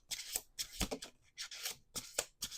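Tarot cards are shuffled close up in quick, crisp bursts of riffling and sliding, repeated several times with short pauses between.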